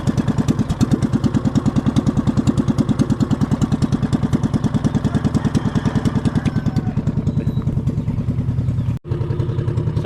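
A fishing boat's engine idles steadily at close range, with a fast, even putter and clatter throughout and one brief dropout near the end.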